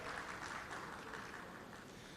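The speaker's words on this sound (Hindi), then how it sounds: "पर जोरदार तालियां डॉक्टर सुभाष चंद्रा और अजय देवगन के लिए" An audience claps loudly for Subhash Chandra and Ajay Devgn at a stage event, producing a dense, continuous wash of applause that stays even for the whole stretch.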